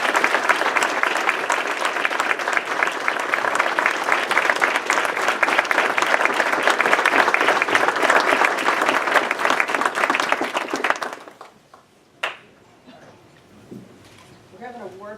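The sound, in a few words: round of applause for the fire chief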